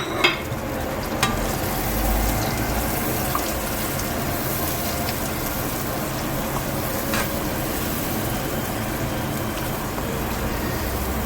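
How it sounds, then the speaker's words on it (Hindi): Ground masala of turmeric, red chili and coriander powder frying in a pan for a beef kofta curry, a steady close sizzle with occasional stirring scrapes and clinks throughout, no talking. "अच्छा सा मसाला हमारा भुन जाएगा अच्छे से"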